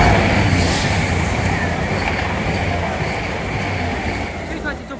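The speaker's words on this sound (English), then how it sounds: "We have a pair of Voyagers going from Bournemouth to Manchester Piccadilly" A pair of coupled Class 220 Voyager diesel trains rolls through a station on a Bournemouth to Manchester Piccadilly run, a steady loud rumble and rail roar close by that fades slightly toward the end.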